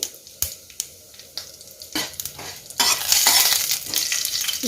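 Fenugreek, mustard seeds and chillies fry in hot ghee for a buttermilk curry; a stirring scrape leads into a loud, hissing sizzle that swells and crackles steadily near the pan.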